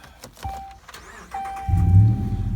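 A 2015 Ram 1500 pickup engine cranks over and catches, settling into a steady low rumble after a couple of clicks and a short whir inside the cab.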